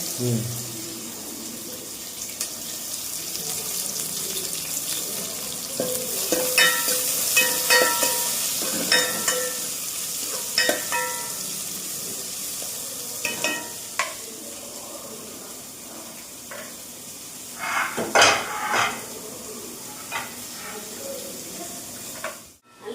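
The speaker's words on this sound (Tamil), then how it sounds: "நல்லா பொரிச்சு வந்து வெங்காயம் மட்டும் நல்லா வதக்கிங்க." Onions and curry leaves sauté in oil in a pan for a Tamil kara kuzhambu: a continuous soft sizzle punctuated by scraping stirs and clinks of a utensil, with a faint splash of water near the start.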